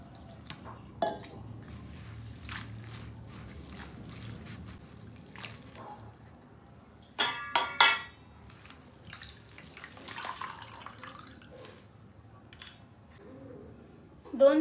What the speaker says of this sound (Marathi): ही भाजी आपल्याला 2 ते 3 पाण्याने स्वच्छ धुवून घ्यायची आहे